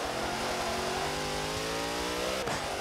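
A race car in Forza Motorsport roars close by with a loud, rising engine whine that sweeps past and shifts pitch near the end.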